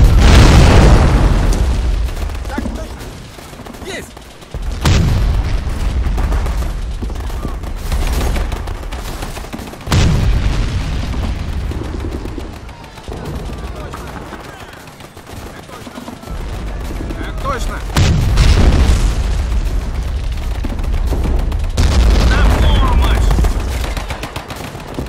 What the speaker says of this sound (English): There's an artillery battery on the hill firing at the village.